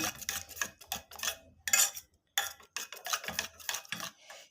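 Yogurt being mixed in a bowl with a spoon, quick clinking and scraping strokes in short bursts with brief pauses, close and fairly soft.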